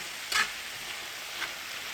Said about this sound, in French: vous laissez cuire jusqu'à ce que la viande hachée et les légumes soient tous cuits